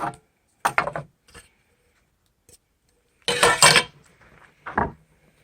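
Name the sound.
Coleman cooking pot set being handled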